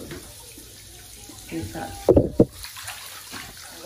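Warm water runs from a bathroom tap into a baby bathtub, a steady hiss with a few louder splashing bursts near the middle, while someone talks close by.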